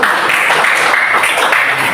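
Students clap together in a classroom during a teacher's lesson, a dense, steady burst of applause lasting about two seconds at even loudness.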